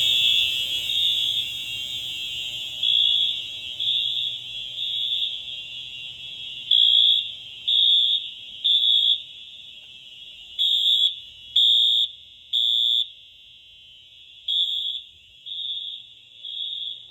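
A basement fire alarm system sounds during a test, a loud, steady electronic tone that swells into repeated pulsing bursts in a temporal pattern and keeps going without pause for the whole stretch.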